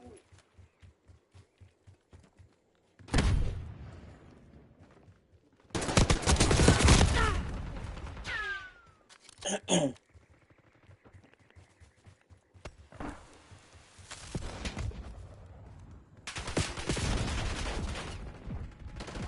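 Cyberpunk video game combat: separate loud bursts of gunfire and volleys between quieter stretches, mixed with mechanical clicks and shouted in-game voices.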